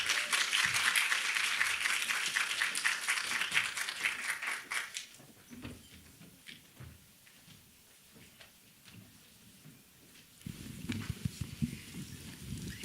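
At a women's forum, the audience claps for a panel for about five seconds, a dense burst of applause that fades into quiet room tone, with scattered faint sounds afterward.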